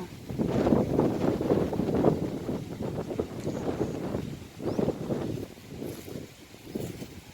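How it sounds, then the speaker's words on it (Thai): Strong cold wind buffets the microphone outdoors by a home vegetable garden, rumbling in uneven loud gusts that swell and ease over several seconds. "ลมกระเฮงหนาวกระเฮง"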